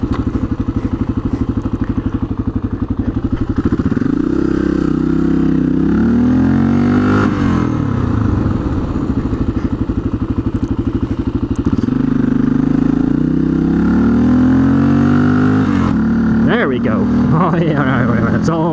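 A water-cooled 400cc dirt bike, an XR400 or DRZ400, idles and revs loudly up close while turning around in a driveway to get back onto dirt, its engine note rising and falling continuously under talking.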